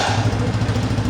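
Motorcycle engine running at a fast, steady putter, close and fairly loud, with a regular throbbing pulse and no talk.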